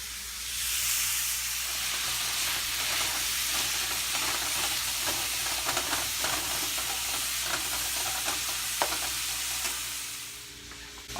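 Ground beef and chopped onions browning in a pan, a loud continuous hissing sizzle close by with scattered scrapes and clicks as the meat is broken up, and no talk over it.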